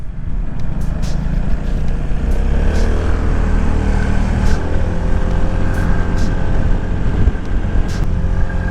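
Piaggio MP3 530 HPE three-wheel scooter from 2022 leaning through turns on a road, its engine a steady close drone with rushing wind noise throughout, no talking.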